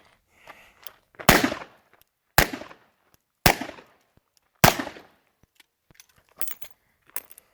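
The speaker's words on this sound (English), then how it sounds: "For this particular iteration, I'm shooting Golden Sabres" A revolver firing Golden Saber rounds at a pistol range: four loud, sharp gunshots spaced about a second apart, each with a short ringing tail, amid faint clicks and handling noises.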